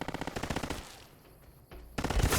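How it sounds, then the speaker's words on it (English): In the game Fallout: New Vegas an automatic weapon fires rapid bursts at close range, a loud rattling stream that pauses briefly and then resumes even harder. "Who am I being shot by?"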